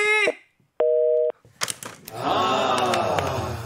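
Telephone busy tone after a call is hung up during a KBS radio broadcast in a studio: two steady beeps with a pause between them, followed by clattering handling noise and studio voices talking.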